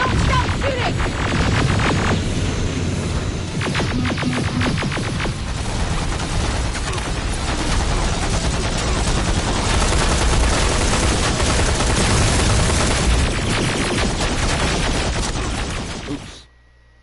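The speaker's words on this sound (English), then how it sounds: "Don't stop shooting!" A sustained, loud barrage of rapid rifle and machine-gun fire in Terminator Resistance rattles almost continuously for over fifteen seconds, then cuts off abruptly.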